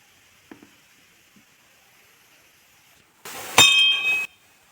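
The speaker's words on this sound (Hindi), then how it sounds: "घंटी लटका हुआ था, सोचे घंटी बजा ही देते हैं" A hanging bell at a small hill shrine near Moti Jharna in Sahibganj is struck once, giving a single bright clang with a short ringing tail after a few faint knocks in near silence.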